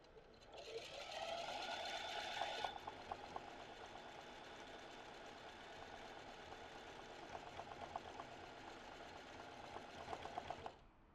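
A zigzag sewing machine runs steadily through free-motion stitching while embroidering rosettes, its fast mechanical whirr close and continuous for about ten seconds, slightly louder at the start, with no talking.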